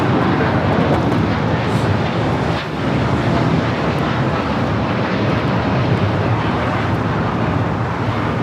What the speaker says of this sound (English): United Airlines 2127 taking off to Newark on the 787-9 Dreamliner.